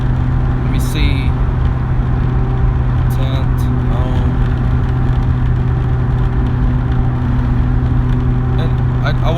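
Steady interior road noise from a car being driven, a constant low engine and tyre drone with brief higher clicks and rattles, loud and continuous throughout.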